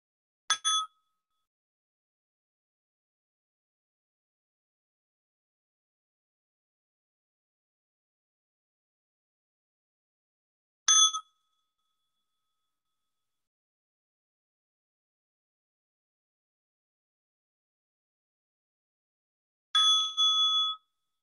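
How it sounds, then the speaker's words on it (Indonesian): Three bright metallic strikes of a meditation bell ring out alone at long, even intervals, each short and clear against silence, during a guided evening meditation. "Begitu Anda dengar bunyi bel meditasi, tetap terkoneksi dengan kesadaran Anda."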